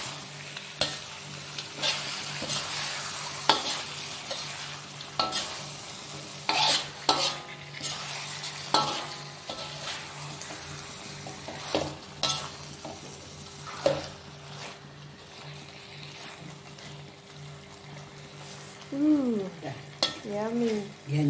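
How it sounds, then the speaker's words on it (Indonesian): Spicy chicken feet are stirred around a frying pan, a spatula scraping and clacking in repeated strokes over a steady, close sizzle, with a few brief voiced sounds near the end. "Kita aduk sampai rata"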